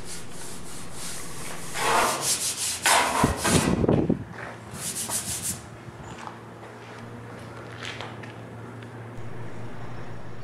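A 180 grit sanding block rubs by hand over a Ford F350 Powerstroke truck bed in rough back-and-forth strokes, close and loud at first, then quieter scraping with pauses.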